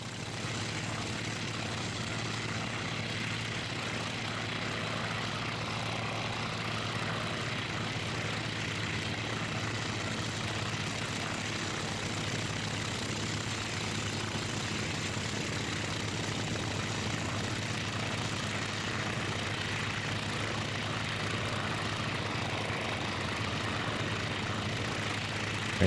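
Propeller aircraft engines drone steadily in flight in the IL-2 Sturmovik combat flight simulator, a continuous loud hum at constant level throughout with no speech.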